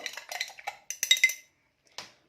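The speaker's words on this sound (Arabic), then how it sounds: "حابه بس اوريكم حبايبي العصايه بتاعتي اللي جوزي جابها لي من الصين اللي انا باكل بيها المكرونه هقلب كده بيها اهو" Chopsticks from China stirring in a pot, producing a quick run of light clinks and scrapes, then a pause and one final tap, close and clear with no talk.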